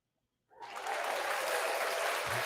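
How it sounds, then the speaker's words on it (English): Canned applause fired from a live-stream sound effects device, starting abruptly after a moment of silence and holding as a steady, dense wash of clapping with no voices. "Could do some applause"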